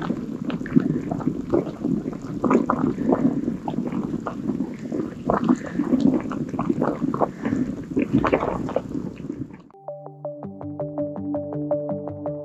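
A sulphurous hot spring pool bubbles and gurgles continuously for about ten seconds, a dense close churning of liquid with some wind on the microphone, before music takes over.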